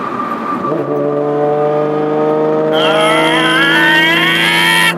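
A 2012 Ford Mustang V-6 pulls hard on a freeway, its engine note rising steadily in pitch, easing briefly for a gear change, then climbing again loud and close from inside the cabin, with no speech.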